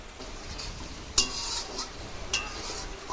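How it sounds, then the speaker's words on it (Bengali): Cabbage curry stirred in a pan after water goes in, a spatula scraping and clinking against the metal with two sharper knocks over a faint simmering hiss, no voices. "জল দিয়ে নাড়াচাড়া করে দিচ্ছি"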